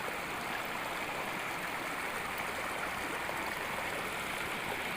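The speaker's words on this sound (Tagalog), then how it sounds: "dito maririnig mo lang talaga yung lagaslas ng tubig" Steady, full rush of flowing river water, constant and close, with no voices over it.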